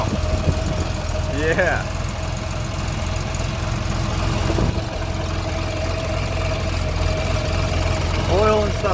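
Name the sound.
1958 Mack B-21 fire truck engine running after starting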